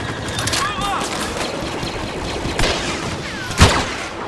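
Distant gunfire in a video game, scattered shots and bursts under steady background noise, with one sharper, louder shot near the end while players talk.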